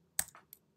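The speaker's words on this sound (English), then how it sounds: "And then I'm also typing the encoding also here." A few quick keystrokes on a computer keyboard, three or four crisp clicks in under half a second, close and isolated in a quiet room.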